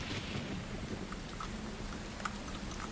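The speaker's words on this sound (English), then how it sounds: "It does start to rain as you get closer to your tell." Role-playing game ambience of steady rain with rolling thunder, a dense, even wash of falling drops with faint distant rumbles, continuous throughout and free of talk.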